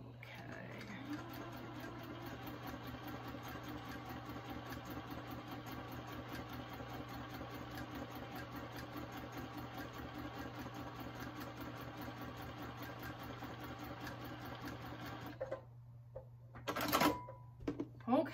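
A sewing machine stitches fabric for a cloth doll, running in one steady, even whir for about fifteen seconds before stopping, followed by a few brief clicks and handling sounds.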